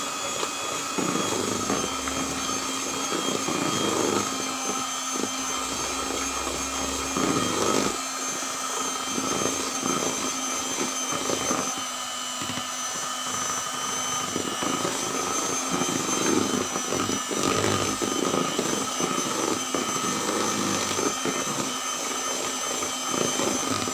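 An electric mixer whirs steadily as it blends macaron batter with a small spoonful of cocoa, a continuous motor drone with faint scraping, even and close with no talking.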